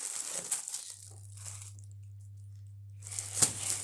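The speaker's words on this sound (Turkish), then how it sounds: "bugün sizlerle beraber bu büyük kargoyu açıyoruz" Large cargo package being opened, with crisp crinkling and crunching of packaging in short bursts at the start and end, a steady low hum between them.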